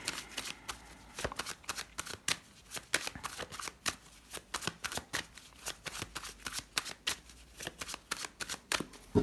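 Tarot cards being shuffled by hand, a long run of crisp, close riffling and flicking bursts in an irregular rhythm with no talking.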